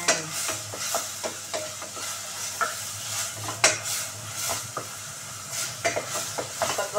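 Onion and garlic frying in a pan for Bikol express, a constant close sizzle broken by frequent light scrapes and clinks as a utensil stirs through the pan, with no talk.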